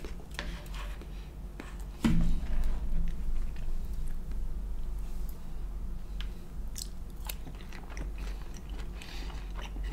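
Close-miked chewing of vegan sushi from Kenshō, soft wet mastication with a sharper bite near the start, steady and intimate over a low background hum.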